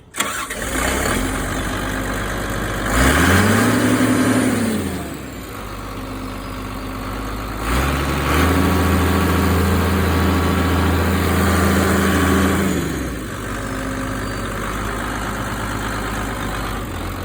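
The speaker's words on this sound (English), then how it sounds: "Good running engine." A Kobelco SK210LC excavator's diesel engine cranks and catches near the mic, revving up then dropping back to a steady, rumbling idle, with a second rev surge later before settling again.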